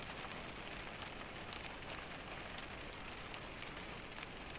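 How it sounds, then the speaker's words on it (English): Steady rain falls on a forest canopy and surfaces, a soft, even, continuous patter with no distinct drops standing out, faint and unbroken throughout. "The rain continued its work."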